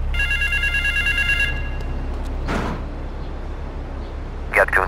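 A payphone in GTA 3 rings with repeated electronic trills for about a second and a half, clear over a low game background hum, followed by a brief whoosh and other game sounds.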